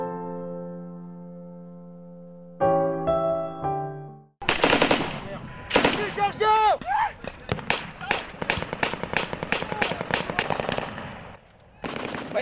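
Battle-scene gunfire in a radio drama set during fighting in Marawi: loud bursts of machine-gun and rifle fire crackle repeatedly after an opening musical tone, with shouted voices mixed in.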